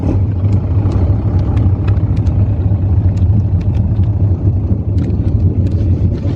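Two cars drive past at Daytona International Speedway, a loud, close engine rumble that stays steady throughout, buffeted by wind noise on the microphone.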